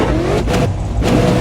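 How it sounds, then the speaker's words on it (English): V8 Supercars race cars in the iRacing sim at Watkins Glen, engines revving hard together on the grid as the start lights come up, a loud continuous mechanical roar with rising and falling revs. "Revs are starting to rise"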